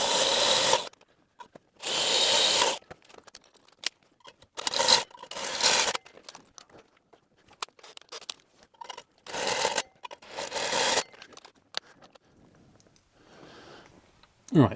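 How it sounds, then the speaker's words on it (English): Power drill working up through successively larger bits, roughly 3 mm to 5 mm and beyond, on a Gardner Douglas 427 Cobra replica chassis during fuel pump and regulator fitting; several separate bursts of whirring drilling with pauses, clicks and handling noise between. "I've just worked my way up through three different drill sizes there"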